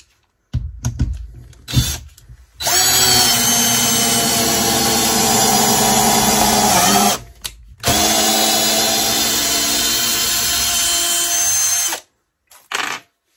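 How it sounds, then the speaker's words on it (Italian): Teccpo PHD100D 18V cordless drill driving a hex-head screw in two long steady whirring runs with a short pause between, loud and close, with brief clicks before and after. "voglio provare ad avvitare questa vite con la testa esagonale"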